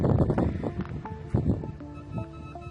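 Gusty wind buffets the microphone in low, uneven rumbling bursts, easing slightly toward the end as faint steady electronic beeping tones from a Golden Mask 4 Pro WD metal detector come through.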